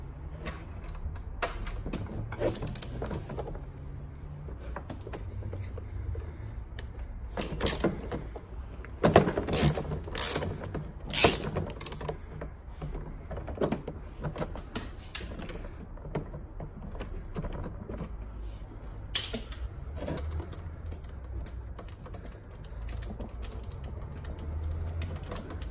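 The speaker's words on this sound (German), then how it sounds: "dann schrauben wir die Zündkerze raus" A ratchet loosens the spark plug on a scooter during a compression test, making close, quick clicking and ticking runs broken by short pauses, with creaks and small metallic knocks.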